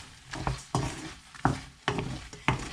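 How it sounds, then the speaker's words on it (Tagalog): Garlic butter shrimp is stirred in a pan, giving five rhythmic scraping strokes over a steady soft sizzle, close up with no one talking. "Haluin po natin ng konti mga kapadyak."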